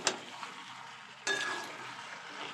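A spoon stirs a drying pumpkin and prawn curry in a pan after sugar goes in, giving soft scraping and a faint sizzle with one sharper clink midway, quiet and close.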